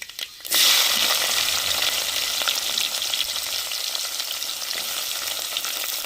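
Fenugreek seeds and chopped onions hit hot oil in a pan for a fish curry, bursting into a loud, sustained sizzle after a brief quiet start and continuing steadily, with no talking.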